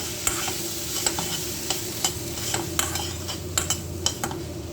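Banana flower and dal mixture simmering in a pot while a metal spoon stirs it, with steady bubbling and a string of light, regular scrapes and taps against the pan, close and alone.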